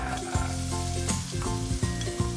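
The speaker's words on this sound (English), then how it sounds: "You want to cook the onions until they're really nice and soft" Onions frying in a pan for a chicken stew, a steady close sizzle running throughout, with loud music playing over it the whole time.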